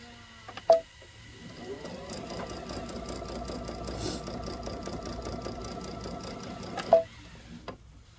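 A sewing machine stitches through a bulky zipper pouch, running steadily for about six seconds between two sharp clicks or thumps near the start and end, loud and close with no talk.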